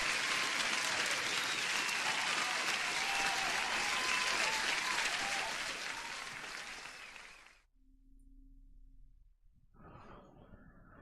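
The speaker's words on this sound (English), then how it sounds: "Let me give you an applause." Recorded applause plays as a dense, loud burst of many hands clapping for about seven seconds before fading abruptly, followed by near silence with faint low tones and a brief return of soft background noise.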